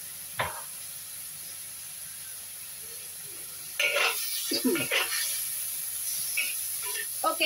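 Vegetables simmer and sizzle in a pan, a soft steady hiss with occasional stirring scrapes and clatter, louder in the second half, with no talking.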